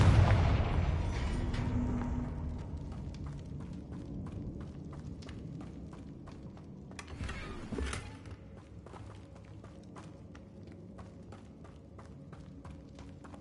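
A Confringo blasting spell bursts in Hogwarts Legacy with a loud opening boom that decays, then a second thud midway, followed by quieter rapid clicks and footsteps in the game scene.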